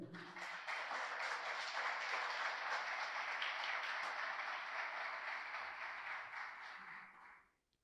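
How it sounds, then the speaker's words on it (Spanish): A church congregation breaks into strong applause, a thick sustained wash of clapping that holds steady for several seconds, then thins and fades out at the end. "Den un fuerte aplauso al Señor."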